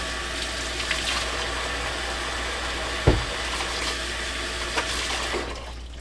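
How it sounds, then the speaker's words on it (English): A kitchen tap runs steadily for hand washing, a continuous close hiss of water with a single sharp knock partway through and no talk. "let me wash my hands again"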